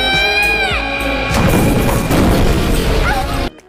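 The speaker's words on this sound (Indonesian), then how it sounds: "Ledakan ini meledak sangat besar." A large bomb explosion from an action fantasy film crashes out loudly and fills the whole sound, with dense booming rumble and debris over a sustained roar, before cutting off abruptly near the end.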